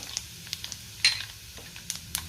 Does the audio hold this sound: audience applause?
no